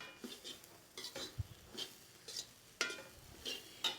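Spoon clinking and scraping against a pan while stirring a mixed vegetable poriyal dusted with sambar powder, a series of irregular metallic knocks over a faint sizzle, close and with no voices.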